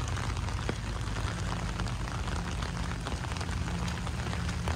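Steady rain falls outdoors at the Astoria Christmas tree lighting, a constant broadband hiss of drops on surfaces with a low rumble beneath, continuous and fairly loud.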